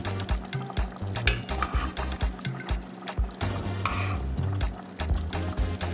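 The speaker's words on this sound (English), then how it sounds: "Stir gently because I don't want it to get mushy." Egusi melon soup is stirred in a pot with a utensil scraping and knocking against the sides, in a quick uneven rhythm over a soft simmering sizzle, close and moderately loud.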